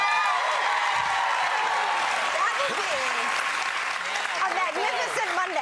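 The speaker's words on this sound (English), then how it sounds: "Now you can applaud." A large television talk-show studio audience applauds and cheers steadily throughout, a dense wash of clapping with scattered whoops rising over it.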